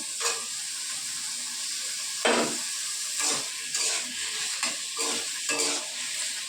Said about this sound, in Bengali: আলুগুলো ভাজা ভাজা হোক।